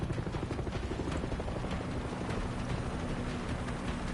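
A helicopter in Far Cry 6 drones loudly and continuously, its rotor chopping in a steady dense rhythm close by for about four seconds, with no talk.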